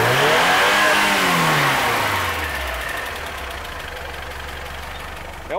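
A Willys rat rod built with a Chevette gearbox and Itamaraty 64 rear suspension, its engine running loud and close, revving hard before settling down into a steady idle.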